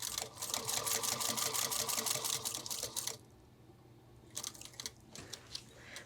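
Sewing machine box-stitching an ultralight hiking backpack strap near its hardware: a loud, close, rapid stitching run for about three seconds stops abruptly, followed by quieter handling and a few softer stitches.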